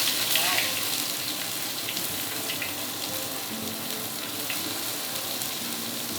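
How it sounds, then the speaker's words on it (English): Garlic and chili pepper fry in a pan with a steady, close sizzle that holds at an even level throughout, with faint clinks and a little background water noise. "Now put the garlic and the chili pepper inside."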